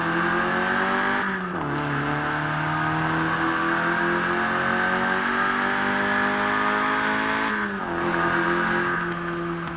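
A loud, sustained Peugeot 205 Rallye engine roars close up in the video game Forza Horizon 4, pitch climbing steadily, with two brief dips like gear shifts before it revs again.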